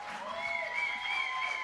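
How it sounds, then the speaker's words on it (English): Audience applause after a set at a live music show in a small venue, a steady wash of clapping with some crowd noise that holds for the whole moment at moderate loudness. "Keep that applause going for everyone who's played tonight"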